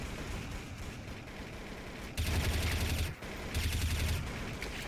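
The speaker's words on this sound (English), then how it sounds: "I'm just gonna throw a shitload of nades." Grenade blasts and gunfire in a video game, two bursts of rapid, booming shots separated by a short pause, set against quieter background noise.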